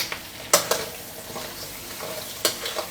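Crab being stir-fried with chilli paste and fresh garlic in a pan over moderate heat, a steady soft sizzle broken by a few sharp scraping clatters of the spatula, with no talking.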